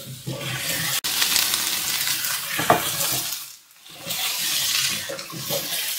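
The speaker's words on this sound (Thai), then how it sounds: "เดี๋ยวอันนี้เราก็ผัดจนหอมใหญ่แล้วก็ซูกินี่ของเราเนี่ยเริ่มสุก" Onion and zucchini stir-frying in a pan, a continuous sizzle with scraping stirs, a sharp clack near the start and a brief lull midway before the sizzling resumes.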